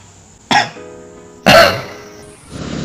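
Two sharp, close coughs about a second apart, loud and abrupt against a quiet background with a faint hum.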